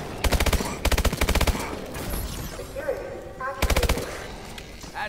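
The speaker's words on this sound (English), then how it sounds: "That is an orbital shot." Orbital strike weapon firing in Call of Duty: Advanced Warfare Exo Zombies (Outbreak), with loud rapid bursts of heavy automatic gunfire repeating in several volleys, game effects and voices between them.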